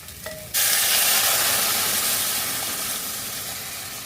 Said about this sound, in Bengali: প্রথমে জলটা ঢেলে দিলাম একটু ফুটে উঠুক